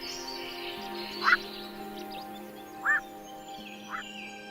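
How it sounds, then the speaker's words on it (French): A black-crowned night heron at Bordeaux Lac calls three times, each a short harsh croak spaced a second or more apart, moderately near, over a constant low background hum. "parfois appelé corbeau de nuit, en raison du croassement étrange et lugubre qu'il fait entendre la nuit venue"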